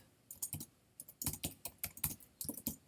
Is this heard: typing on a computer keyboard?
yes